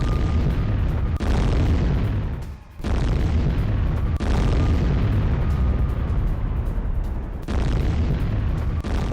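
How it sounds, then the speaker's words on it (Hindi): Bombing in Gaza at night: heavy, rumbling blasts and booms follow one another in a continuous, loud roll, with a few brief lulls between the big explosions. "रात भर सुनाई दी बमबारी की आवाजें"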